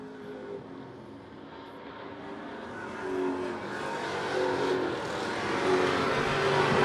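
Stock race cars circling Wiscasset Speedway, a continuous roar of engines that swells and builds as the pack passes, heard from the grandstand at moderate distance.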